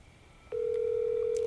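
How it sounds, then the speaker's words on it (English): A phone places a call, sounding a steady, clean dial-type tone that starts abruptly and holds loud and continuous, with no talk over it. "All right, let's give Tommy a call."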